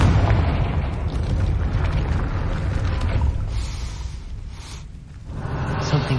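A Confringo fire spell blasts at a gate in Hogwarts Legacy, a dense rumbling boom that stays loud and sustained for several seconds, with low crackling roar throughout and a slight dip before swelling again.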